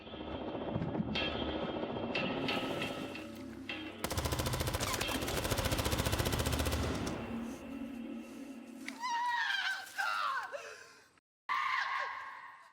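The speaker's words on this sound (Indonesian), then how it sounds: "terus menembaki danau tapi tak menemukan satupun tubuh muncul" Bursts of rapid automatic gunfire, fired into a lake, rattle over a helicopter's drone, with gasping breaths and shifting, dramatic background sounds.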